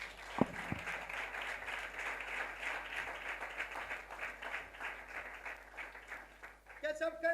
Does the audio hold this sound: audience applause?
yes